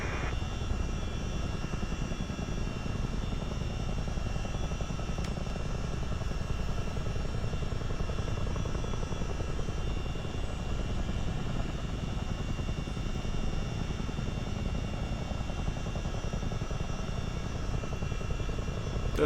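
Steady rotor and engine drone of a CH-47 Chinook tandem-rotor helicopter in low-level flight, continuous and loud throughout with no talk over it.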